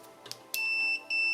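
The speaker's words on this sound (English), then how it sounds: "it is beeping" An Amiga 4000 computer under repair, after a SIMM socket replacement, gives two high, thin electronic beeps. The first beep is held and the second follows after a short gap. Both sound faint against a quiet room with a few soft clicks.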